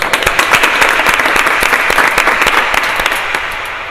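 A church congregation bursts into loud, dense applause, many hands clapping together close by and fading slightly toward the end.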